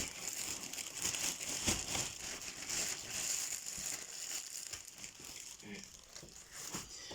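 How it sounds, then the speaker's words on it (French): Quiet, continuous crinkling of a plastic protective bag as a collectible is unwrapped, with rustles and small crackles throughout; no one talks. "vraiment dans son sac, voilà, dans son sac de protection, et c'est rare que je le déballe aussi et que je le sorte"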